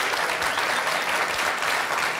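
Dense audience applause from a studio crowd, continuous clapping heard alone at moderate volume.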